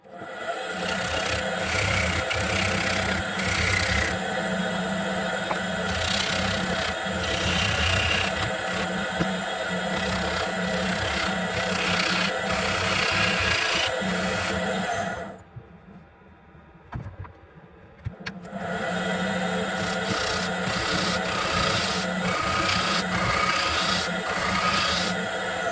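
A wood lathe rough-turns a bowl blank round, with a continuous close scraping whir of the gouge biting the spinning wood; the cutting stops briefly for a quiet pause before resuming just as loudly.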